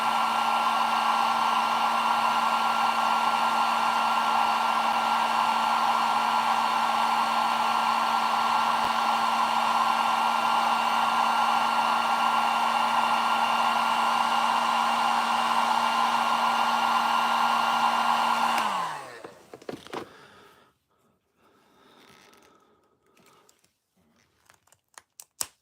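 A heat gun blows hot air steadily and loudly onto glued toy packaging, a constant whine that cuts off near the end, followed by faint crinkling and handling.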